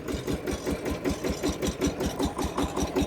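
A VST tractor engine hitched to a loaded trolley idles with a steady, rapid low chugging pulse that stays even and close throughout.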